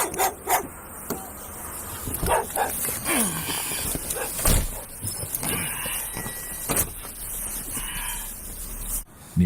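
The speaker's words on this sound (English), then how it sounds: "Nearby, a white Labradoodle barks frantically, refusing to leave the scene." A white Labradoodle barks frantically at a crime scene, its sharp barks coming in scattered bursts amid traffic rumble, rubbing noises and general outdoor commotion.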